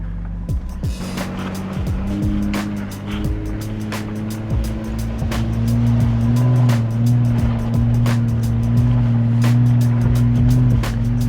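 Toyota Tundra truck on a tight off-road trail with Firestone MT tires and basic factory suspension, engine droning and rising in pitch close by while rocks and branches knock and scrape against the truck.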